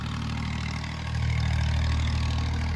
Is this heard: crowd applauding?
no